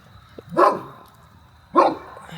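A dog barks twice outdoors on a calm fall night, two sharp, fairly close barks about a second apart against quiet background hiss.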